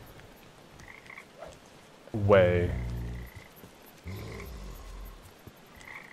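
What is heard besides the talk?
frogs croaking in video game Papo & Yo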